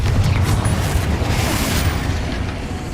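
Confringo fire-blast spell exploding in Hogwarts Legacy, a dense rumbling boom with a low roar that stays loud and sustained throughout, like layered game explosions with no speech.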